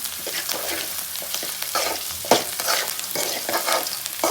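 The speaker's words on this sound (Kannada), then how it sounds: "ಇವಾಗ ಒಗ್ಗರಣೆ ಎಲ್ಲ ಚೆನ್ನಾಗಿ ಬೆಂದಿದೆ" Tempering with fried peanuts sizzles and crackles in a hot pan while a utensil scrapes and stirs, steady and close, with sharper spits now and then.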